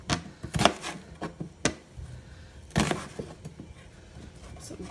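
A kitchen knife cutting food into big slices makes a series of sharp, uneven chops and knocks on a board, close and fairly loud.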